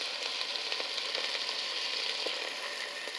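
Beef frying in a couple tablespoons of olive oil for stroganoff, a steady close sizzle with faint crackles and pops throughout, no voices.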